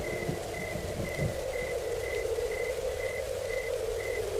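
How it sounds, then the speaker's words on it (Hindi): Light rain falling at night in a deserted spot, a soft, steady hiss of drops that goes on evenly throughout, with a faint regular chirp repeating in the background and no voices. "हल्की हल्की बारिश शुरू हो गई"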